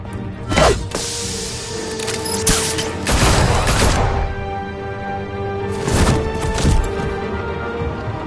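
Gunfire bursts in Telltale's Batman video game, a few loud broadband volleys of shots spaced across the scene over a steady background rumble.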